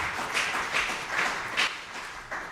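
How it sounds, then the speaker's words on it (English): A church congregation claps during a livestreamed service, a sparse, moderate applause with a few rhythmic swells, heard without any talking. "Let's give a round of applause for our liberty,"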